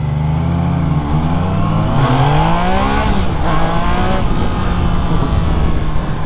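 A 2021 Triumph Trident 660 motorcycle accelerating hard on a Southern California test ride, its engine note climbing steadily through the gears, loud and continuous with a rising pitch and brief dips at each shift.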